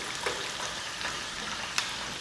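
Tofu with green peas sizzles in a pan as a low, steady hiss with a couple of faint pops.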